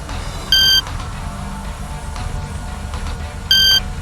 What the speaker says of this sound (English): You know you're on course the more frequent the sound beeps